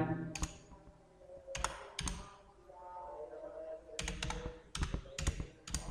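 Computer keyboard typing during office data entry, with quick bursts of sharp key clicks separated by short pauses, close and fairly quiet.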